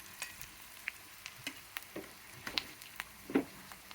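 Chopped onions fry in seasoned oil in a pan. A quiet, gentle sizzle is dotted with scattered small pops and ticks, soft and fairly close.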